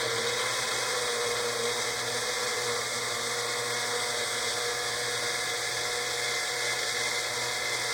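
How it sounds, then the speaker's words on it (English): Small blender container whirring steadily as it mixes German pancake batter with vanilla, a constant high motor whine that runs loud and unbroken, with nobody speaking. "we're going to blend this. I just have this little blender container."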